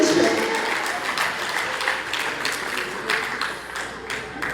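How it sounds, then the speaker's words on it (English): An audience at a political event claps together, a broad crowd of hands sounding loud at first and then easing slightly, with sharper individual claps standing out near the end. "Please clap for yourselves"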